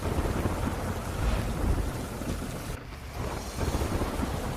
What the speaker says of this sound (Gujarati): પોરબંદરમાં અનરાધાર વરસાદ પડ્યો છે